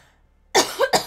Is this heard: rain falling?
no